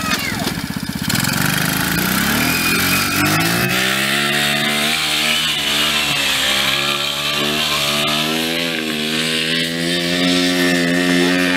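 A 125cc go-kart engine sputters, catches and settles into a buzzing idle, its pitch wavering slightly, loud and close throughout.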